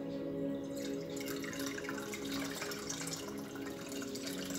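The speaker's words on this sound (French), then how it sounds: "En fait, je la passe au passoire, c'est mieux." A liquid soap mixture made with two clays is poured through a kitchen sieve, giving a steady, close trickling and dripping that runs throughout without any talk.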